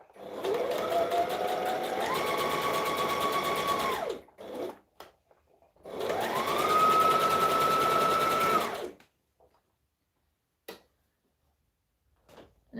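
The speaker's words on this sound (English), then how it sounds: "So I just have to stretch it from there to there and then stitch it down." Sewing machine stitching stretched elastic onto a McCall's M7314 garment, two sustained runs of rapid mechanical whirring that rises in pitch, separated by brief clicks and pauses, close and clear with no talking.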